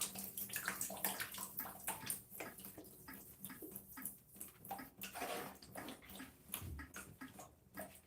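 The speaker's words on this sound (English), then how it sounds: "Put some water on this help with the hang time" Water being applied to natural gray curly hair during a wash-and-go routine, a soft continuous splashing and trickling close by, quiet throughout.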